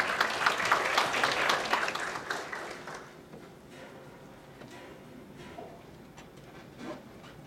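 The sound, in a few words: audience applause welcoming a speaker at a conference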